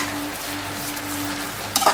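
Beetroot halwa with sugar being mixed in a pan over a steady, soft sizzle and low hum, ending in a brief louder scrape of the utensil against the pan.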